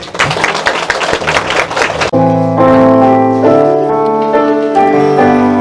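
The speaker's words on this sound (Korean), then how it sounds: "우리 하나님께 영광의 박수 드립니다." A church congregation claps together to give glory to God during a Korean sermon. The brief burst of clapping cuts off abruptly and gives way to loud sustained organ or keyboard music.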